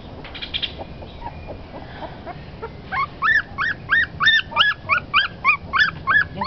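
A dog whimpers and yips close by, first with soft scattered whines, then a fast, regular run of high, loud yelping cries with no talking.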